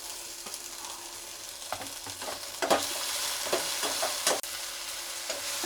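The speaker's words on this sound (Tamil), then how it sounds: "பூண்டு வதங்கின உடனே அடுத்து தக்காளியை போடணும்" Tomatoes frying with garlic in a pan give a soft, close sizzle, punctuated by intermittent stirring scrapes and taps against the pan.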